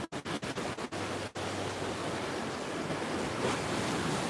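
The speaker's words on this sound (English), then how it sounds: "Here's the inlet." Steady, loud wash of surf at a coastal inlet fills the scene, with a few brief wind buffets on the microphone at the start before the breaking water settles into a continuous roar.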